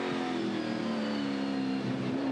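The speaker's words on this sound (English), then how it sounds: "You can just see how much straight line speed Yulden's car's got" Touring Car Masters race car accelerating hard at the Adelaide street circuit in 2015, a loud, continuous onboard engine roar holding a high, steady pitch with no pauses.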